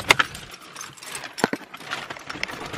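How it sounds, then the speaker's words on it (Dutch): A set of old keys jangles in a few quick, bright metallic rattles up close, with light handling clicks in between. "Oh, mijn oude sleutels."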